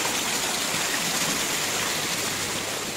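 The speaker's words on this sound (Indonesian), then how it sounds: "Kita nyebrang sungai dulu." A river rushing steadily at a forest camping ground in the Megamendung highlands during the rainy season, its broadband water noise loud, close and continuous throughout with no voices.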